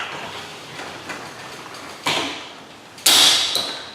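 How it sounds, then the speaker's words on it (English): A Clopay garage door on a Chamberlain LiftMaster opener pushed by hand along its track until it re-engages the trolley, with a continuous rolling, creaking rumble and two sharp metallic clunks as it catches. "And then just manually move the door till it re-engages with the inner trolley."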